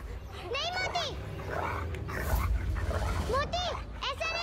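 A dog named Moti barks and yelps in sharp bursts at the start and again near the end, close by, over a busy household scene with people talking.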